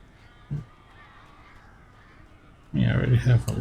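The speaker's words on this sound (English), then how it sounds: "These birds are weird." Crows cawing in the horror video game Alan Wake Remastered, one brief harsh caw early on, then a louder cluster of rough calls near the end over a quiet background.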